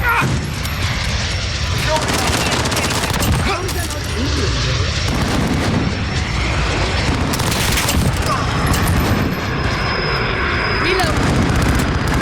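Dense Modern Warfare combat soundscape: sustained loud gunfire, booming explosions and an aircraft drone running continuously, with radio-style voices talking over the chaos throughout.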